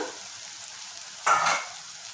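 Sliced onions frying with salt in a pan, a quiet sizzle that swells briefly into a louder burst of stirring and crackle midway before settling back to a low hiss, no voices.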